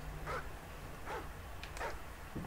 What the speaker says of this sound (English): Team, enemy attack dogs are approaching your location.